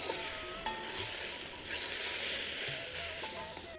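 Chillies roast in a hot pan with a continuous sizzle, punctuated by a few scraping stirs of a utensil.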